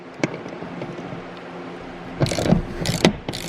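A ratchet loosens the seat bolts on a Toyota Tacoma, giving a few sharp clicking bursts near the end after quieter handling noises.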